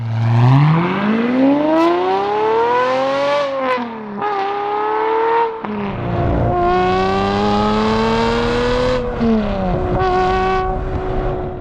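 A straight-piped V12 manual sports car engine revs hard and loud, its tone sweeping up and down through several sharp climbs and drops, with no voices over it.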